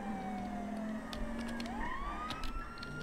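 A wailing police siren in a video game rises and falls over steady engine and traffic rumble, fairly loud and continuous throughout.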